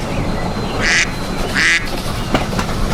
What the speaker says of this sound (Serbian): Patka.